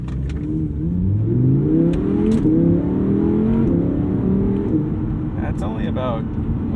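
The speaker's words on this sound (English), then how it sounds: "And now I'm driving an R8." An Audi R8 with a naturally aspirated engine revs up and climbs through the gears from inside the car, a loud, rising and falling mid-pitched engine note that stays strong throughout.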